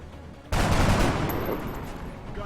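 A single sharp rifle report in XCOM: Long War, a sudden loud crack followed by a long rumbling tail that fades slowly.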